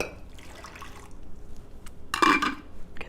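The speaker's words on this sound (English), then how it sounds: "pour the water out," Water poured out of a pour-over coffee setup, a faint trickle and drips giving way to a brief, louder splashing gush near the end, close by with no talking.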